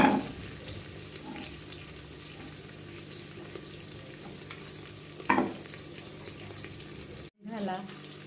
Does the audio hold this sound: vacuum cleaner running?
no